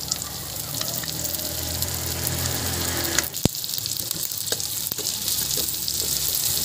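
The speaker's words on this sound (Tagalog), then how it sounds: "Ilagay na natin dyan ang ating bawang at isunod na rin natin ang ating sibuyas." Garlic and onion fry in pork fat with a steady, close sizzle and crackle that runs throughout, with a brief clink midway and no speech.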